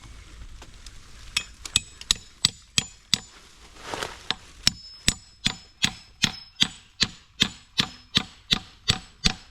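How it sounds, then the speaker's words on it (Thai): Steady, evenly spaced metal-on-metal strikes as iron climbing spikes are hammered into a durian tree trunk outdoors, about two blows per second, sharp and close, continuing without talk. "แต่ทอยเหล็กแบบนี้ตอกแนวตรงดีกว่าครับผม"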